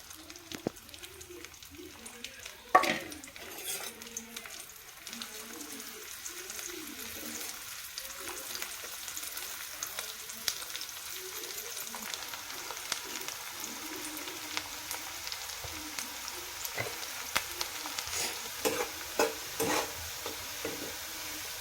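Onion fries in hot oil in a kadhai, a soft sizzle and spoon scrapes running under steady speech, with one sharp clatter early and scattered clinks later.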